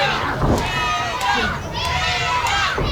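Wrestling fans at an Oroville pro-wrestling event cheer and shout loudly and continuously, with excited voices and children's shouts rising in waves through the crowd noise.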